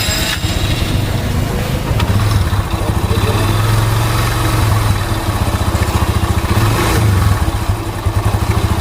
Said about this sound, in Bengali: আমরা বাইকটিকে স্টার্ট দিয়ে দেখাচ্ছি এখন কেমন হলো